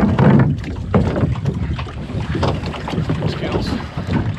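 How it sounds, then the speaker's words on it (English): A dinghy is made fast to its mooring off a remote Orkney island, with water slapping and sloshing close by, heavy wind buffeting the microphone and brief faint voices in the background. "secure the dinghy back to her mooring"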